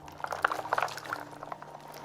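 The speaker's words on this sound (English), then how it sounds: "now let's rinse." Corn kernels are rinsed and stirred by hand in water for homemade tortillas, giving close, wet sloshing and bubbly splashes with small drips, steady and alone.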